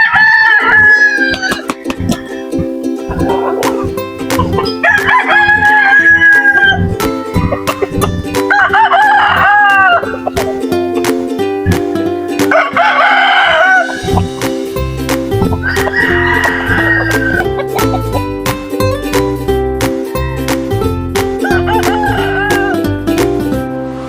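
Several native chickens crow loudly in repeated cock-a-doodle-doo calls, one after another across the yard, with clucking and a dog barking mixed in.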